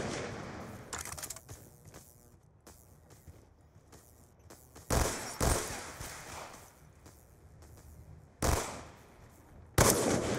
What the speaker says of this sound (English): Throwing grenade! Throwing frag!